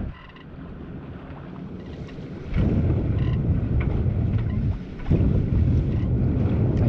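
A motorboat passes close alongside a sailboat under strong wind, with a low engine rumble that surges loudly twice over gusty wind noise buffeting the microphone.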